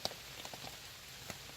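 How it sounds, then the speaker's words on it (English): Steady rain pours outside through a hot, sticky night, a dense continuous hiss with scattered louder drips and patters, no talk. "it's been pouring rain all night"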